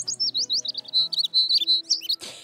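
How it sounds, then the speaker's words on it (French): A cartoon baby bird chirps in quick, high, repeated tweets, a steady run of bright calls over faint background tones, ending with a short burst of noise. "Le bébé oiseau va me manquer, papy."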